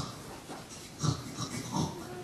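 A voice imitates the grunts of a javelina in a children's story, giving a few short, breathy, pig-like grunts and snorts close up over about two seconds.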